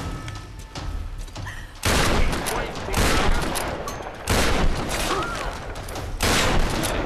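Shotgun fire in the Tomb Raider video game, heavy booming blasts in several loud bursts, separated by quieter stretches and mixed with other game noise.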